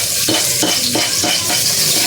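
Garlic and onion frying in cooking oil for a pancit guisado, a steady loud sizzle with rhythmic stirring strokes of a utensil scraping through the pan.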